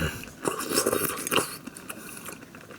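Fried tofu (yubu) from udon being chewed close up, soft wet bites and squishy chewing over a few seconds.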